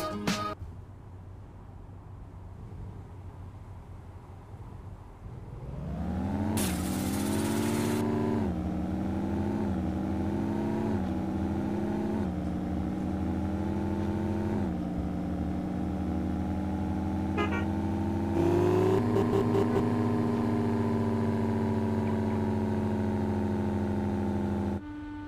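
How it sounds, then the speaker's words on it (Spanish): A car engine in the Car Parking Multiplayer video game revs up and shifts through gears at about 6000 rpm. It gives a loud, continuous drone that climbs in pitch, drops at each shift, then climbs again, with no talk over it. "para simular los cambios pones el acelerador analógico y aceleras poco, y cada cambio lo haces a unas 6000 revoluciones"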